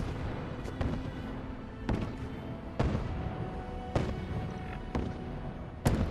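Mortar rounds in the Fallout 76 video game thump again and again at a steady pace, roughly one per second, fairly faint over a constant noisy background.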